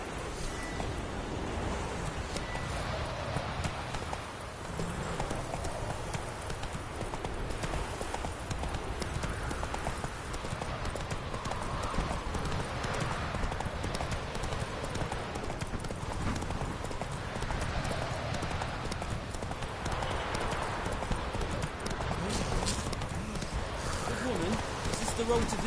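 Roach, the horse in the video game Witcher III, gallops along with steady rhythmic hoofbeats over rustling ambient game noise, while voices speak now and then.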